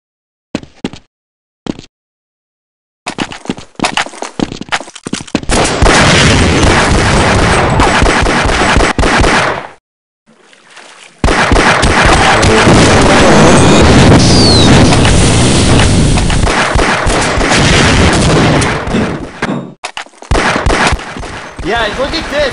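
Loud, continuous roaring blasts of the Egon gluon gun firing in Half-Life Deathmatch, two long sustained bursts broken by a short pause and preceded by a few sharp clicks.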